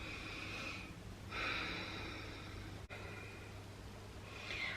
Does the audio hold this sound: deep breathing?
yes